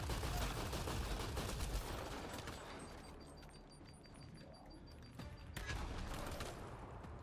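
Rapid automatic gunfire in a Mass Effect Andromeda multiplayer match, sustained bursts of sharp shots rolling on for several seconds at moderate loudness, with game effects layered over it and no talking.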